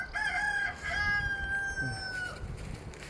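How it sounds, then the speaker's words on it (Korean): A rooster crows loudly and close in the morning at a farm plot in Algeria, one long drawn-out cock-a-doodle-doo with a few clucks and farmyard noise after it. "지금 우리 그 닭들이 지금 아침이면 해를 치면서 많이 이렇게 울고 있습니다."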